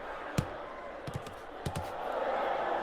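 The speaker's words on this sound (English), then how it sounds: "hearing that crowd make that reaction." Punches land with sharp thuds in the VR boxing game Thrill of the Fight 2, and a virtual arena crowd's roar swells and grows louder toward the end.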